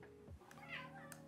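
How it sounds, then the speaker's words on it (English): A house cat meows at a closed door: a few short, soft meows close by against a quiet indoor background. "So that's the cat. Do you want to open the door for the cat?"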